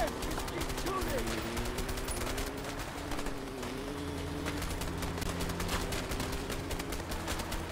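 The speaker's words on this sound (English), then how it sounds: "Just keep shooting!" Gunfire crackles in the video game A Way Out as repeated sharp shots and bursts over a steady din of game sound and music, with some talk mixed in.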